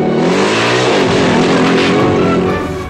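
A stolen Matisse Desert Racer motorcycle roars through a chase scene pursued by a German patrol, the engine loud and close with a steady revving drone whose pitch dips briefly before climbing again.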